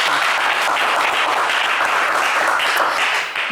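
A game show studio audience claps loudly and densely for a contestant, a dense burst of applause filling the whole short stretch without any speech.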